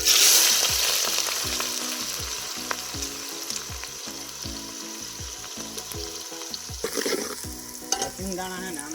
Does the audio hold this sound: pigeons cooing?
no